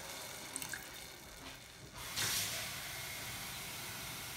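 Hot water gushes from a kitchen tap in steady hissing flow, starting after a few faint clinks and continuing strongly to the end, near and alone.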